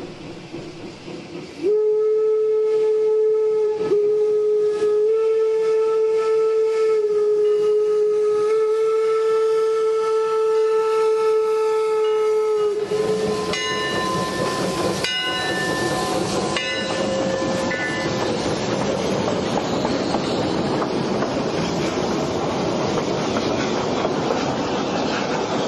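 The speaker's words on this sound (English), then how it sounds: "The shrill sound of the locomotive's original whistle breaks through the quiet morning" The original steam whistle of Eureka & Palisade No. 4 on the Durango & Silverton line, a long sustained shrill blast held for about eleven seconds, then short toots as the locomotive departs into loud chuffing and rolling train noise, with no talk.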